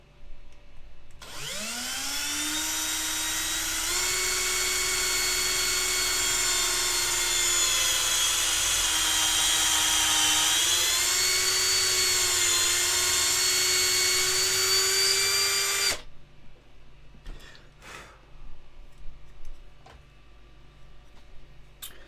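Small drill boring into a 1/6 scale resin model kit, a high whine spinning up and holding steady for about fifteen seconds before stopping, followed by faint clicks and handling.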